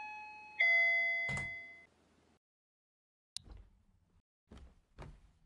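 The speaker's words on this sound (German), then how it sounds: "Es hat geklingelt." A doorbell rings in the horror game Parasocial: a clear two-tone chime that rings out and fades, followed by several dull knocking thuds after a brief silence.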